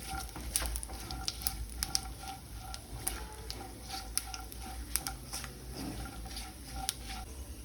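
Dry fruits such as pistachios and raisins sauté in hot ghee in a pan, giving a steady low sizzle broken by frequent small ticks and pops as the pieces are stirred and tossed.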